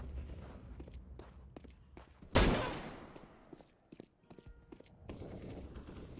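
One loud, sharp gunshot cracks out and trails off in a long echoing decay, surrounded by quieter shuffling steps and small clattering noises.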